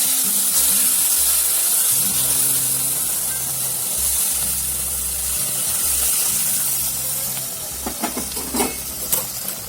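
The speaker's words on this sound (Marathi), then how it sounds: "आता याच्यामध्ये गरम उकळलेलं दूध घालूया." Hot boiled milk poured into sheera of semolina fried in ghee in a pan, giving a loud continuous sizzling hiss that gradually eases, followed by a few clinks of a spoon near the end, with a low hum underneath and no talking.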